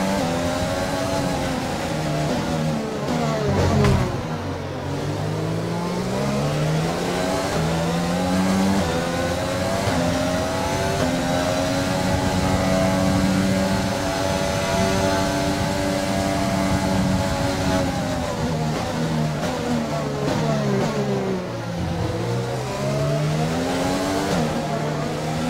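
Formula 1 car engine from the F1 2020 racing game, Azerbaijan Grand Prix at Baku, screaming loud and continuous, rising and falling through gear changes and revs, with no talk over it.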